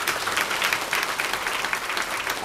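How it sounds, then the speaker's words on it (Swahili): An audience at a public gathering applauds, a dense, steady clapping from many hands that holds at an even level for the whole stretch. "Jamani, naomba tuwapongeze kwa makofi mengi."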